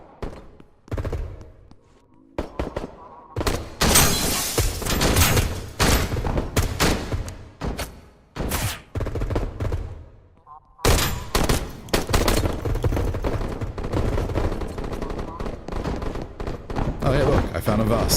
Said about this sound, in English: who's shooting at me with a shotgun?